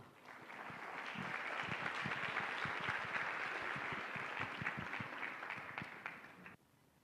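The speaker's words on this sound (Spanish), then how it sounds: "Le recibimos con un caluroso aplauso" An audience at a talk on gender identity and transition welcomes a speaker with warm applause that swells, holds steady, then cuts off near the end, sounding somewhat distant and soft.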